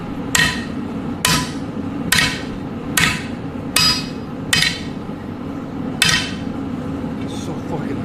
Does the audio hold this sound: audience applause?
no